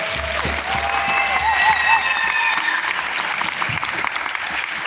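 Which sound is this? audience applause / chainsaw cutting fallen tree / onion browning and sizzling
audience applause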